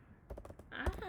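Quick bursts of keystrokes on a computer keyboard, a short run of separate taps followed by a denser patch of typing, close and clear in a quiet room.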